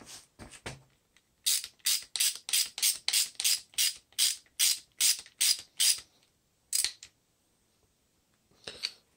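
A wrench ratchets a lock nut onto the belt tensioner of a Can-Am F3 Spyder, giving a rapid, close run of crisp ratcheting clicks with a few separate clicks before and after.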